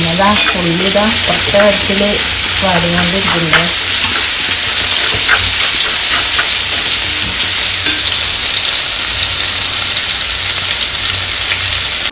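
Onions fry in a pan over a low flame, giving a constant loud crackling sizzle with faint stirring scrapes; a voice talks briefly at the start, then the frying continues alone.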